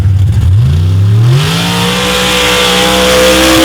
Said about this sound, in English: Now, as Jason Chaya, your points leader with that massive Bischoff Ford Hemi, comes to the line.